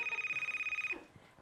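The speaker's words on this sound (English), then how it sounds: "So phone rings. Yeah, phone rings." A telephone rings with a steady pulsing electronic trill for about a second, fairly clear and close, then stops, leaving faint room noise.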